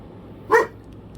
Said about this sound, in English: with Mocha barking her furry little head off.